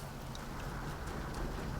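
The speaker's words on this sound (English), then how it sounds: "It's raining." Rain in the video game Shadow of War falls as a steady, moderately loud hiss of dense droplets, continuous and even with no voices over it.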